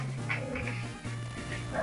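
Dogs barking and yipping close by, short repeated yelps with some whimpering mixed in, heard indoors during a Pokémon game session.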